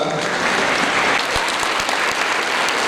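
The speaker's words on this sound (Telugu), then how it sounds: "అందరూ గట్టిగా చప్పట్ల ద్వారా" An audience in the Rajiv Gandhi Auditorium applauds at a district-level Prohibition and Excise department event, producing dense, loud, sustained clapping from many hands that fills the hall.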